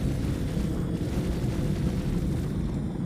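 Cannons firing in stagger fire mode in a video game, a dense continuous barrage of low booming blasts rolling together without pause.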